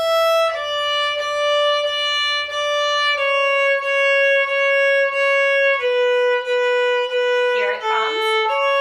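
A violin plays Song of the Wind from Suzuki Book 1 in clear, sustained bowed notes, with small breaks where the bow lifts and starts down-bow again. A short voice-like glide comes near the end.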